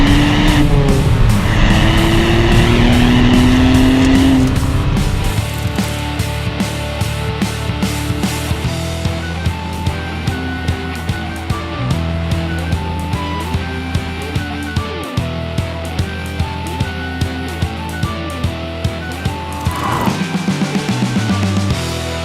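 2018 Ford Fiesta ST 1.5 EcoBoost with 147 kW, loud exhaust and engine noise as the car accelerates and lifts off repeatedly, revs climbing then dropping with rhythmic pulsing, heard from inside without talking.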